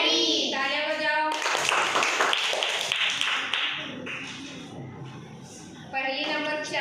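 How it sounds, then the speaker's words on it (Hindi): Children clap their hands during a classroom riddle game: a burst of dense, rapid clapping from a group, fairly close and loud, framed by a spoken voice before and after. "तालियां बजाओ।"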